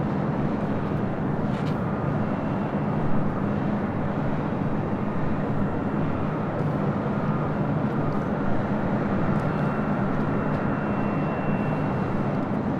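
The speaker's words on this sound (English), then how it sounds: "This is Delta Airlines Flight 424 heading to Minneapolis." A Delta Air Lines Boeing 757-200 jet at LAX gives off a steady, broad engine roar that stays even and unbroken throughout, moderately distant, with no voices over it.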